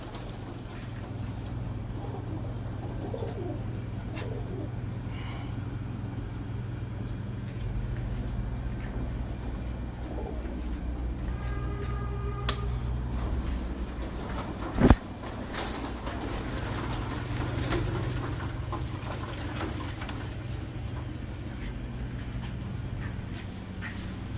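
Pigeons coo softly in a loft over a low steady background hum while a female pigeon is handled, with a few faint rustles and one sharp knock partway through.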